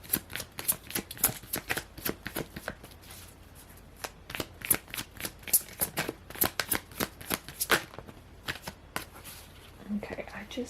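Tarot cards are shuffled close by in a steady run of crisp riffling slaps and flicks, with faint low talk underneath.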